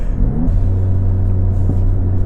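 A Scion tC engine rumbles steadily nearby at low revs, with a brief pitch rise before settling into a sustained hum and a small blip later on, with no talk.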